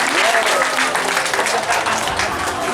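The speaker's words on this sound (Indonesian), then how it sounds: "Tepuk tangan buat Golkar Asahan" A crowd at a political party's vaccination event in Asahan breaks into sustained applause, many hands clapping loudly and evenly, with a voice briefly audible over the start.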